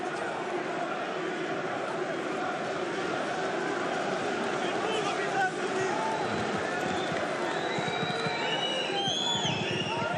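A Paris crowd at a Bellator MMA fight roars steadily, a constant wash of cheering and chatter throughout, with distant whistles and shouts rising near the end.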